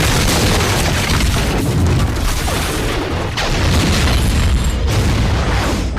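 Explosions from the crash scene of the film Super 8, played back through a home theater system with subwoofers: continuous dense booms and rumbling blasts with heavy low-frequency energy, loud and sustained throughout with repeated surges.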